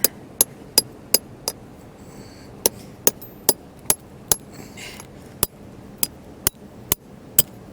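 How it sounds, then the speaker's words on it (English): Hammer blows drive a chisel into a crack in a rock crevice: about seventeen sharp, ringing metallic strikes in a steady rhythm, with one short pause partway through, close and clear over quiet background. "So we'll take and put our chisel in there."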